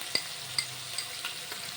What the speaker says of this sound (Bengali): এবার পেঁয়াজ আর টমেটো খুব ভালো করে ভেজে নেব যাতে খুব নরম হয়ে যায়